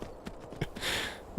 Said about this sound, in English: Get on up there, horse.